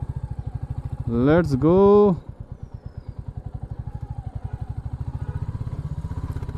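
A Royal Enfield Bullet 350 motorcycle idles at a service centre, its single-cylinder engine thumping in a steady, close rhythm throughout, with a brief louder rev or horn-like tone early on and a voice speaking over it.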